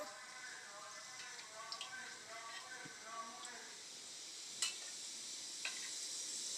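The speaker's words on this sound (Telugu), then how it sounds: "ఆయిల్ హీట్ అయిన తర్వాత ఆవాలు జీలకర్ర యాడ్ చేసుకుంటున్నాను" Mustard seeds and cumin hitting hot oil in a pan for a leafy-greens tempering, giving a soft, steady sizzle and hiss with a few sharp pops and crackles, faint and close.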